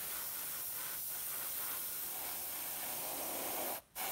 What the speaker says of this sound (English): Our airbrush started to sputter because we had paint clustered around the nozzle